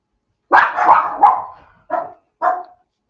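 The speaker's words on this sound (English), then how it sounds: "Sorry, the dogs are excited." Dogs bark excitedly and close by: a quick cluster of three loud barks, then two more single barks after short pauses, in a quiet room.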